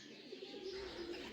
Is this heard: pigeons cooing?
yes